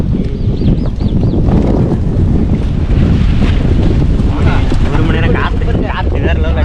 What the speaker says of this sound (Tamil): காற்று வேறு லெவலில் அடிக்குதுடா.